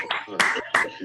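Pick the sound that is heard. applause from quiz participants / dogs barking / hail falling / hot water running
applause from quiz participants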